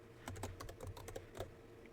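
Keys tapped on a computer keyboard in a quick, uneven burst of close, quiet clicks, with no speech.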